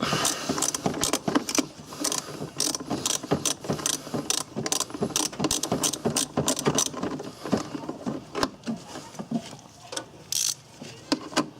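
A ratchet fitted with an 8mm socket clicks in rapid bursts while backing a bolt out of a Ford Ranger during A/C component removal, close and continuous with short pauses.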